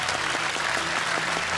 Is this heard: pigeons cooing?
no